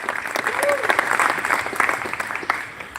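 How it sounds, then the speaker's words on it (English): An audience at a live MUFON gathering at Moon Lake applauds, a dense steady clapping with a few whoops and a voice calling out over it. "Can we give him a round of applause?"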